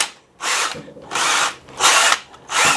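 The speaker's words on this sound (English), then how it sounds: "This drill might be a little aggressive on her." A power drill whirs loudly in four separate bursts of about half a second each, with brief pauses between them, while cleaning stains on a white chair.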